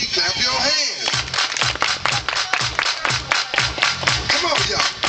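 A group of people claps their hands in rhythmic, evenly spaced beats during a stomp-and-clap dance, loud and close, with music and voices running underneath.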